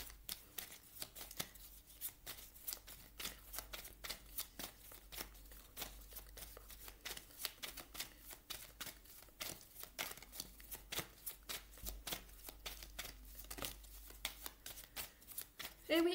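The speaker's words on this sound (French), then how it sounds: "Je vais vous tirer 2 cartes de l'oracle du Lotus." Oracle cards being shuffled and drawn, a close, rapid run of papery riffles and slaps that continues steadily throughout, with no speech over it.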